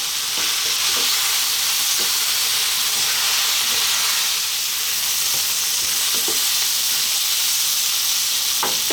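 Chunky eggplant pieces frying over heat for a lamb curry, a steady close sizzle and hiss with scattered crackles and occasional stirring clicks throughout.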